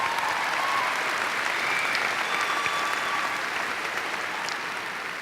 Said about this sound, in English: I was going to ask you all to give an applause for your teachers